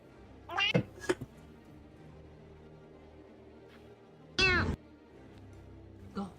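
A cat meows in several short bursts: two quick calls near the start and a longer, louder meow a few seconds later, over a quiet room background.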